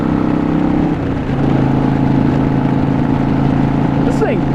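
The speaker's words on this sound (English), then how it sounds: "the exhaust is on the right, and the exhaust is louder than shit in my right ear." A Harley-Davidson Sportster 72 XL1200V motorcycle's exhaust while riding on a road, a loud, steady, close engine drone that holds its pitch throughout with a brief dip near the one-second mark.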